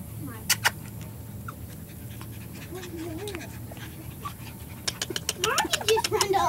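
Six-week-old Goldendoodle puppies panting close by with soft whimpers and scuffling, while people talk over them and a few sharp taps and clatters sound near the end.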